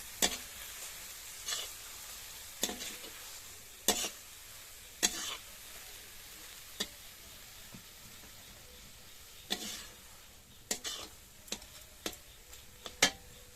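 Mustard paste being stirred into boiling amaranth greens (note shak) cooked with tamarind flowers, heard as a dozen or so sharp ladle clicks and scrapes against the pot, irregularly spaced, over a low steady simmer and faint sizzle.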